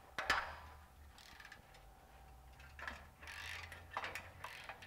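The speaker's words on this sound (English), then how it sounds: "now we're gonna remove our three bolts on the bottom for our flange" A ratchet loosening the exhaust flange bolts on a 2000 Honda Civic 1.6L gives faint, scattered clicking in short bursts, fairly quiet against a low background hum.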